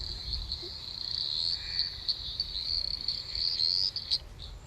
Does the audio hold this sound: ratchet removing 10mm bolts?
no